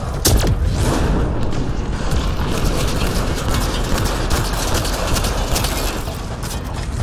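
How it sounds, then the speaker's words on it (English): Pistol fire from the video game Mass Effect Andromeda: rapid, loud shots in quick succession with mechanical clacks, sustained through the whole stretch amid dense game action. "Let's try our pistol here."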